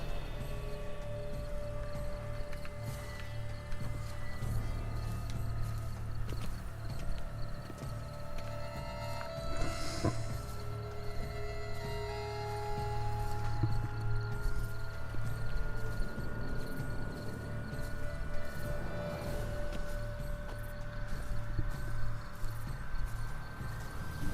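Steady horse hooves clopping at a walking pace over a constant droning background, with occasional brief snorts; no voices, from the video game The Witcher 3: Blood and Wine.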